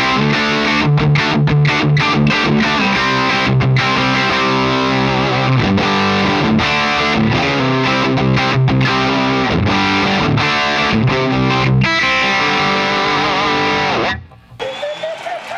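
Heavily distorted electric guitar played through a distortion pedal: loud, sustained chords and riffs with rhythmic stops, ending abruptly.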